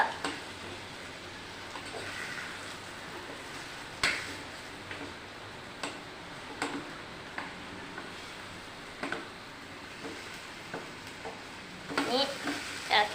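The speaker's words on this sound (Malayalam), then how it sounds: "അപ്പൊ നമുക്ക് ഒന്നുകൂടി ഒന്ന് ഇളക്കി കൊടുക്കാം ശ്രദ്ധിക്കണം ഇത് കരിയാതെ" Fish curry masala sizzles in a pan while being stirred, with a soft frying hiss underneath and repeated close scrapes and knocks of the spoon, busier toward the end.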